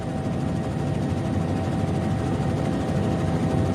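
A helicopter roars in a tsunami disaster action film, its engine and rotor drone loud, steady and close, with no break through the whole stretch.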